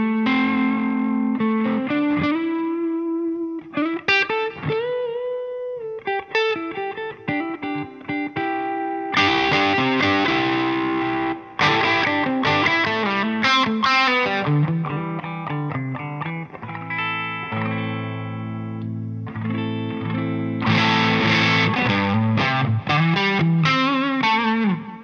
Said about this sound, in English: this is the crunch channel of the Rev. It's just that plus the reverb in the amp turned on, and the aux box gives some delay.